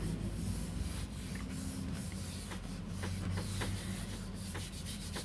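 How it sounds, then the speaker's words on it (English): Paper being rubbed down by hand onto a mixed media gel plate while card making, producing a continuous close, dry brushing and rubbing sound with a few soft taps throughout. "So we're rubbing that all down, and then we peel it off"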